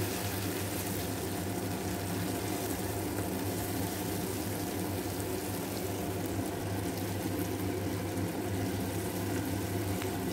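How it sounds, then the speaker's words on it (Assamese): Pointed gourd pulp paste frying in oil in a pan, giving a steady, dense broadband hiss and sizzle that holds even and continuous throughout, close by and with no talking. "সেইখিনি পেষ্ট কৰাৰ পিছত এতিয়া আমি এই তেলত ভাজি ল'ম।"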